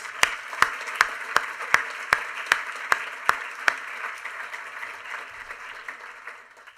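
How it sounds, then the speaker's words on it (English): Conference audience applause at an annual conference, sustained clapping with several sharp close claps in a regular rhythm, tapering off toward the end. "Round of applause."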